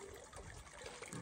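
A small trickle of water running down from a hill in a dry, drought-hit village, a steady, soft splashing flow that stays low and continuous throughout.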